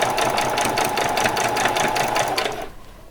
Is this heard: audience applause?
no